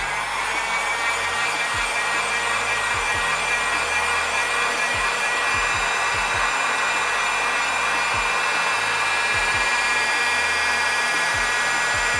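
A heat gun blows a steady, even airflow roar across a cracked Google Pixel 6 display to soften the adhesive before opening, running continuously and fairly close with faint handling bumps underneath.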